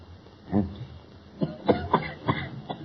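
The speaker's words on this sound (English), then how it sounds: "There's the cough again. It's from the next room." Coughs sound in a 1934 radio drama, a short single cough followed after a pause by a cluster of three or four muffled, hoarse coughs, fairly close and alone.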